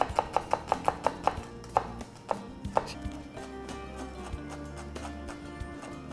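A knife chops an onion on a cutting board in a home kitchen, a quick run of evenly spaced sharp taps followed by slower scattered cuts, close and clear with no talking.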